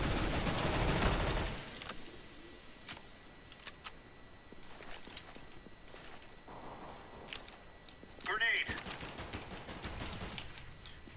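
Bursts of MP7 submachine gun fire in a shooter game, a loud dense volley at the start followed by scattered short shots and clicks, with one sharp burst near the end.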